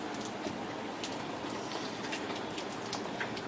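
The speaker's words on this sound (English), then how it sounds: "It's been raining all day." Steady rainfall on a day of continuous rain, a dense even hiss with scattered drop patter throughout, fairly soft and uninterrupted, with no voices.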